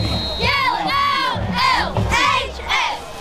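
A squad of high school cheerleaders at a Friday night football game shout a rhythmic chant in unison, with loud, sharply accented syllables over background crowd noise.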